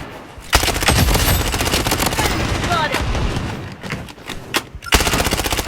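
Rapid automatic gunfire from an AK rifle in the shooter game Blood Strike, loud and dense sustained bursts with brief gaps, cutting out near the end before resuming.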